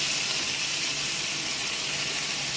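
Chicken leg pieces sautéing in a hot pan with softened ginger-garlic paste for a chicken curry give off a steady, even sizzling hiss with no voices over it.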